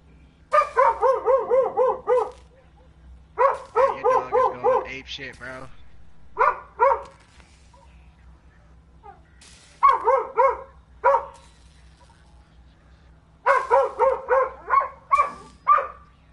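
A dog in the video game The Division barks repeatedly in loud, close clusters of sharp barks with short pauses, over a steady low background hum.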